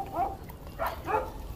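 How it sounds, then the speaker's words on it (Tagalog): Dogs bark in the background, three short muffled barks a little apart, fairly distant and moderately faint against a low background hum. "Ano kung maririnig nyo, may mga aso din sa background."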